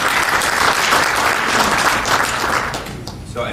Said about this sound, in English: If we could give her another round of applause, please.